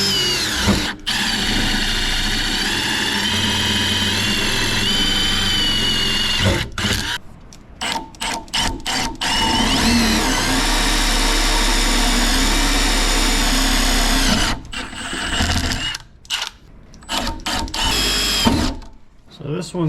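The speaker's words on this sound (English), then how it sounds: "First do a pilot hole, smaller drill bit than what comes with it." A power drill drilling a pilot hole with a small bit whines steadily through a long run, then stops and starts in short bursts, loud and close, with a brief voice near the end.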